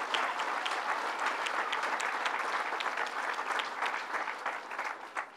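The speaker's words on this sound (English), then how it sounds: "Give them a round of applause for that." Steady applause from an audience at a governor's announcement event, dense and sustained for several seconds at moderate distance, with no talking over it.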